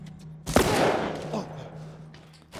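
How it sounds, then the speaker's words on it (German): Gunfire in The Last of Us, a sharp, loud shot followed by a decaying crash and a fainter second report, then a few quieter clicks, all over a low steady hum. "Das war ein Kopfschuss und der läuft einfach weiter."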